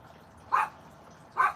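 Abby, a pet dog stirred up by squirrels fighting in the bushes, gives two sharp barks about a second apart, fairly close, over a quiet garden background.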